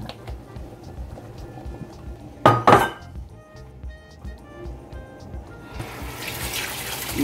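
Soaking water is tipped out of a cooking pot of green beans and jerked beef, with a sudden loud splashing pour and a clink mid-clip, then running water later, over quiet kitchen background.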